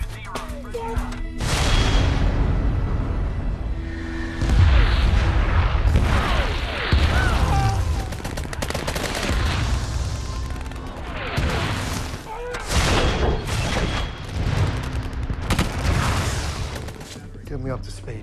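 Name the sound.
artillery battery firing in war film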